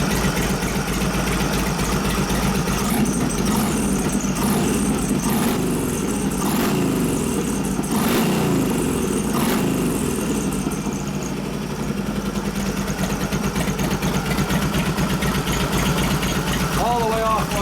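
A 1989 Softail with a 93ci panhead engine and a Mikuni HSR42 carb idles steadily with a loud, lumpy, continuous rumble, close up, while someone talks over it.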